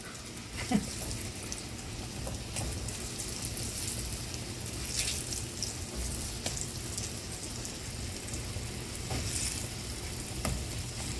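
Zucchini slices fry in very hot oil with a steady, dense sizzle and crackle, continuous and close, with occasional sharper pops.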